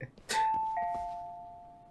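A doorbell in the video game Lost Judgment gives a clear two-tone electronic chime that rings out alone and decays slowly in a quiet room.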